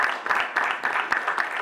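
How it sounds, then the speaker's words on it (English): An audience at an evening public meeting breaks into brief, steady applause, a dense patter of many hands clapping without voices. "You can applaud, sure."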